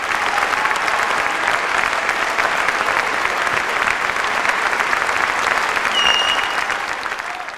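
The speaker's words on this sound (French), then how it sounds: "ont été salués par un tonnerre d'applaudissements et même une standing ovation" Thunderous applause and a standing ovation for the Monte-Carlo Philharmonic Orchestra and conductor Alondra de la Parra, a loud dense roar of clapping from a large concert audience, sustained throughout and easing slightly at the end.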